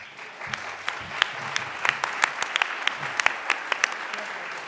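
Audience at a Detroit Public Lighting Authority community meeting in Rosedale Park gives a round of applause, with individual sharp claps standing out over steady crowd clapping and background voices.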